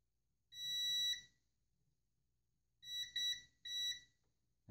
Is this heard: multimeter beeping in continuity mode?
yes